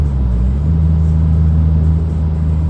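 A Mini Cooper R56 cruises at 60 mph in sixth gear with light throttle, its engine and exhaust a steady low drone and rumble heard from inside the car.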